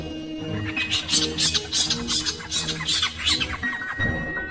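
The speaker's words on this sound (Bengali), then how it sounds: "ছাতিম গাছটা থেকে একটা হুতুম পেঁচা জোরে ডেকে ওঠে।" Sound effect of a large horned owl calling loudly from a tree on a moonlit village night. A rapid series of harsh, rasping calls repeats for several seconds, close and prominent, then falls away.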